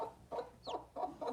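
Farm chickens kept near ducks give a quick run of soft, rhythmic clucks, four short bursts close by and fairly quiet, with no talking.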